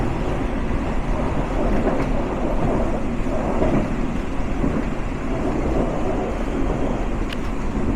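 An express train rumbles past nearby, a loud continuous roar with faint rattling of cars, steady throughout.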